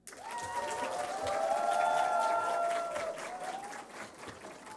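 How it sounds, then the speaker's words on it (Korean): Church congregation applauding a newly ordained pastor during a Sunday service, a full roll of many hands clapping that swells and then fades, with a held musical tone sounding beneath it. "박수!"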